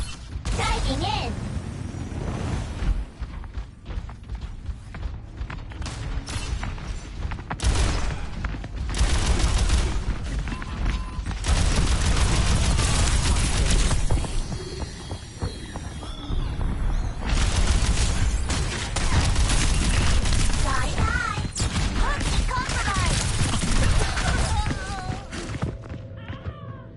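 A weapon barrage fires in the video game Overwatch 2, a dense, sustained volley of rapid shots and booming blasts that rolls on loudly for nearly half a minute, with in-game voices mixed into the din.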